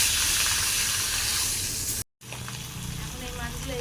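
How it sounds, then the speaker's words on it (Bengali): Pieces of ribbonfish fry in hot oil, a continuous close sizzle that drops out briefly for a moment, then resumes slightly softer with some low background noise. "এখন এই মাছগুলো ভেজে নেব।"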